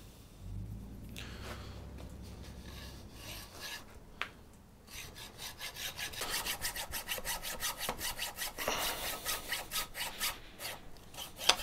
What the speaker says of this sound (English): take a file, a rasp or something, and get this section sanded down a little bit so that it'll go through